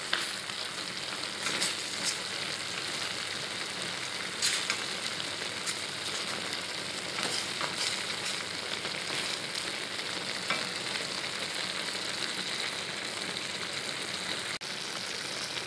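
Eggplant and minced pork stir-frying in a hot pan, giving a steady, dense sizzle and crackle that runs unbroken and fairly close throughout, with no voices.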